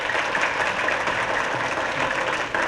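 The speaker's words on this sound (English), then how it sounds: "and then your applause for number 1," A studio audience at a 1972 syndicated Beat The Clock game show applauds steadily, a dense, even wash of clapping that runs throughout with no voices over it.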